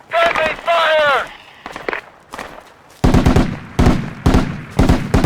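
Rapid game gunfire rings out in a Project Reality night battle, with sharp repeated shots and bursts, loud and close, following shouted voices at the start.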